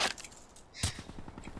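Pistol fire from the LCAR-9 in the video game Black Ops 3, with a sharp loud shot near the middle followed by a quick run of lighter rhythmic shots, and a busier burst at the start.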